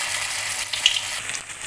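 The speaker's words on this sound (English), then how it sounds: "So we'll drop in the florets and fry them." Pre-cooked cauliflower florets fry in hot oil, a short, close, steady bubbling hiss with a faint crackle partway through.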